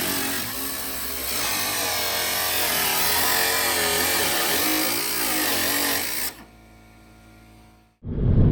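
A power tool grinds steadily into the metal hood of a Ford Focus ST to cut louvers, a loud continuous abrasive whine for several seconds before stopping abruptly.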